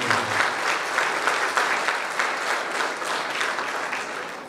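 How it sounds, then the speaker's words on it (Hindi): A large audience at a public event with the state governor claps loudly and steadily, a thick wash of applause that fades slightly toward the end. "अगर आप परिचित हैं तो जोरों की ताली बजाएं"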